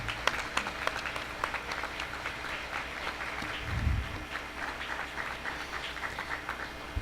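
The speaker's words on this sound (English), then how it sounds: "Let's give them applause." Applause from the audience at a school board meeting, honoring student groups being recognized; steady, moderately distant clapping that runs through the whole stretch, with a low thump near the middle.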